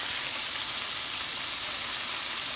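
Shrimp and steak sizzle steadily on a hibachi grill at home, a dense, continuous close frying hiss with no breaks and no voices.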